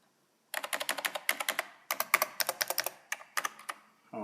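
Rapid typing on a vintage NeXT computer keyboard, a steady run of crisp, close key clicks in irregular bursts with brief pauses, heard alone.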